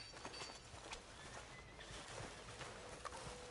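A horse in the open-world video game Red Dead Redemption 2 clip-clops along with occasional snorts and a faint whinny, all fairly quiet against a light ambient background.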